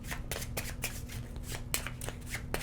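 Cartographers board game cards are shuffled by hand in quick, repeated riffles, each a crisp papery burst close to the listener, with no talking.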